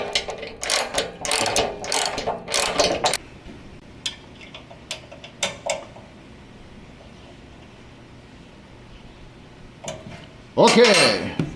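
Ratcheting bursts of screws being driven in to mount a light bar on a Toyota Tacoma, loud and close, in several clusters separated by quiet gaps, with a final harsh burst at the end.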